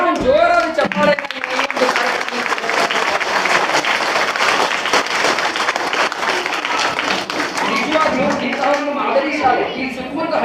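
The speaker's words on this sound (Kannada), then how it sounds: "ಎಲ್ಲರೂ ಒಂದು ಜೋರಾದ ಚಪ್ಪಾಳೆ" An audience bursts into loud, sustained applause for a teacher at a school event, with a dense wash of clapping lasting about ten seconds and voices calling out over it.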